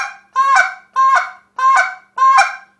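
A short reed honker goose call imitates a Canada goose, giving four loud, close two-note honks in an even rhythm with short silences between.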